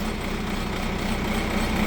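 A tractor engine runs steadily on a dairy farm during morning chores with a manure spreader, a loud, continuous mechanical drone close by with no talking.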